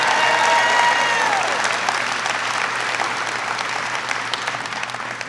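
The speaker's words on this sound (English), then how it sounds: "Give him a big round of applause." Audience applause greets Charlotte mayor Anthony Fox at an event on jobs and innovation, a dense, steady wash of many hands clapping that stays loud throughout and slowly thins toward the end, with a faint tonal whistle early on.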